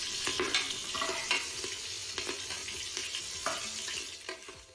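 Green chilies frying in hot oil for chicken pulao, a steady close sizzle broken by sharp spits and pops and occasional stirring scrapes.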